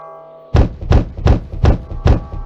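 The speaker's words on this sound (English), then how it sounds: "Don't you be banging on that door." Someone pounds hard on a cabin door in the woods with five heavy, evenly spaced thuds. A low tone hums faintly before the first blow.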